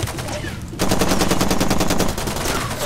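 A weapon in Far Cry 2 fires a rapid sustained burst after a brief lull, loud and close, with dense rhythmic shots running for about two seconds.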